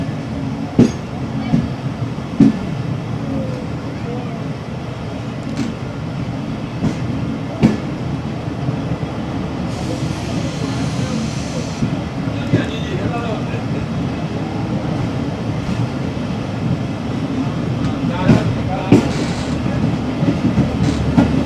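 A Pakistan Railways train, number 103, pulls out of the station with a continuous low rumble and repeated clicks and clanks of wheels and couplings, a brief hiss partway through, and voices nearby.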